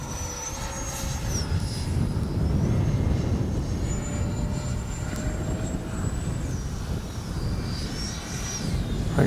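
A Freewing 80mm F-22 RC jet flies by with a continuous electric ducted-fan whine that rises and falls in pitch as it maneuvers, over a rumbling wind-buffeted background outdoors.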